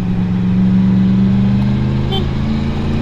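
Steady droning engine of a BMW GS motorcycle on a ride, a continuous loud mid-low hum with little change in pitch, heard close with wind and road noise around it.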